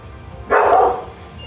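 A single short dog bark or yip, fairly close and moderately loud, standing alone in an otherwise quiet room.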